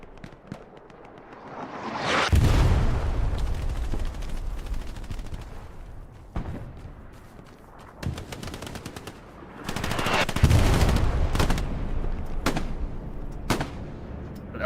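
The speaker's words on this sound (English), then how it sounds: "As a bombing run does land at the defense of Roadblock" Heavy gunfire and booming impacts rumble through a competitive match of the World War II shooter Hell Let Loose, with two large swells of explosive roar around loud bursts and sharp isolated cracks in between.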